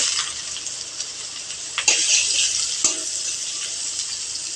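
Carrots frying in a pan for vegetable fried rice, a bright continuous sizzle with a couple of sharp knocks from stirring partway through, close and steady, with no voices.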